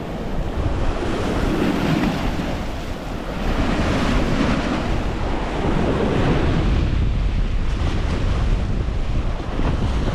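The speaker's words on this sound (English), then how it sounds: "the water seems very rough today. As I stand up here, the water can splash up into me" Rough sea surf crashes and splashes continuously on a windy day with a strong north wind, loud broadband wash with heavy wind buffeting on the microphone, no voices.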